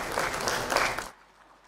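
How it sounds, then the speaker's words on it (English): Audience at an electric-vehicle conference applauds as speakers are welcomed on stage, a dense burst of clapping that fades out abruptly after about a second. "Round of applause, please."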